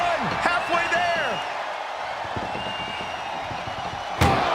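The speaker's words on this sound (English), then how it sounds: "Desperately trying to close the first of two doors." A loud slam at the close of an ambulance door during a WWE RAW ambulance match between Bron Breakker and Penta, heard once near the end over steady arena crowd noise and excited commentary.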